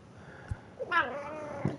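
A cat meows once, a short rising-falling meow close by and fairly clear, with a couple of soft taps around it in an otherwise quiet room.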